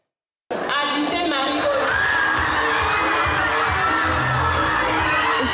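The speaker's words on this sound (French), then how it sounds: "Explosion de joie dans la foule à l'annonce du nom de Marie-Aude Adjitin, candidate sacrée meilleure oratrice" Jubilant crowd erupting in cheers, whoops and shrieks as the winner of a girls' public speaking contest is named, a loud, dense roar of many voices sustained without pause.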